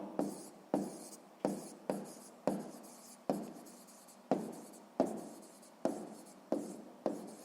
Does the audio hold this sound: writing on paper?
yes